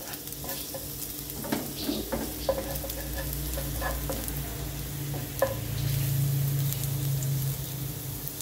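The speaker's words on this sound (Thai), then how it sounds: "ผัดซีอิ๊วคะน้าเส้นใหญ่ค่ะใส่ไข่ไม่ใส่หมู" Thai wide rice noodles with kale and egg stir-fried in a pan, continuous loud sizzling with spatula scrapes and stirring clatter, intensifying toward the end.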